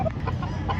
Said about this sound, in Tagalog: Quality ang mga manok.